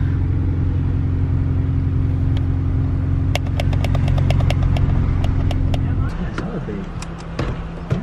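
A Honda Pilot idles with a low droning rumble that shifts as it pulls away, while a string of sharp clicks and taps sounds nearby and a voice speaks briefly.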